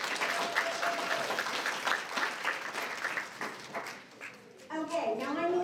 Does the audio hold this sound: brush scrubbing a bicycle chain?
no